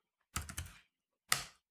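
A short flurry of computer keyboard key clicks, close and crisp, followed after a brief pause by one more keystroke, in a quiet room.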